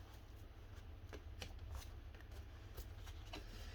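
Tarot-style angel cards being shuffled softly and close by, with a run of light riffling flicks and snaps over a low room hum, no talking.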